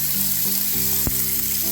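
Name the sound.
hot water filling a kitchen sink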